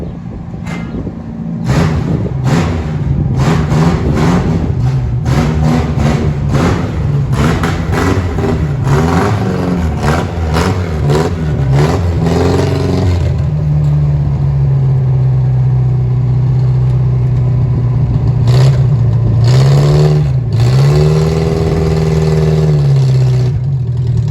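A Datsun 1500 ute's engine runs loud and close while the truck reverses, rising and falling in pitch as it is revved, then settling into a steady idle with a few short blips of throttle, no talking.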